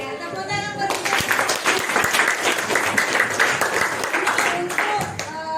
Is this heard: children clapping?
yes